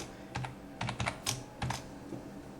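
Keys click on a computer keyboard while HTML table code is typed, a close run of quick irregular taps in small bursts.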